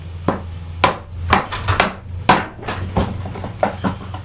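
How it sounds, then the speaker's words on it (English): A chisel chops vertically down into wood end grain to cut a mortise for a joint stool, making about nine sharp, close, irregular knocks against a quiet background. "So I've got the back of the chisel more vertical and just cutting down that end grain."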